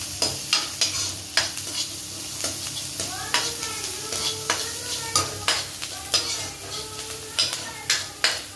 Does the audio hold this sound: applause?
no